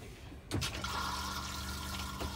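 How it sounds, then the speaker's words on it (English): RV toilet in a 2023 Winnebago 59PX flushing at the push of a button, a sudden close gurgle and rush of water that settles into a steady hiss of flow. "you just hit the button and it will flush"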